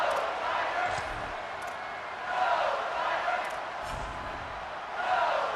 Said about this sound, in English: Now you're going to need this home crowd to get loud and play some defense with them.